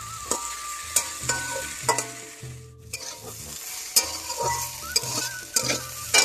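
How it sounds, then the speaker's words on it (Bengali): Potatoes fry in a pan with steady close sizzling, broken by repeated scraping and stirring strokes and a brief quieter pause in the middle. "আমাদের তিনজনের জন্য এগুলো ভাজা হচ্ছে"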